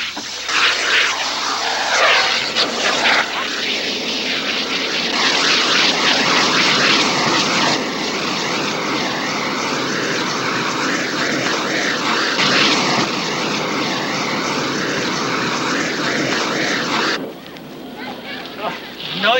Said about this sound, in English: Noisy, rotten jet.